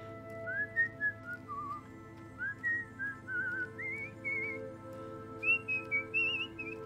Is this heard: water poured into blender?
no